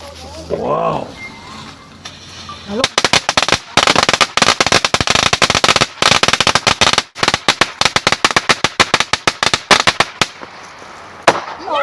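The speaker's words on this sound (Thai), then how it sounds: "เดี๋ยวเราจะจุดประทัดเพื่อฉลองชัยกันนะ" A long string of firecrackers set off on a mountain summit in celebration, rapid loud sharp bangs crackling in an irregular burst for several seconds after a brief voice at the start.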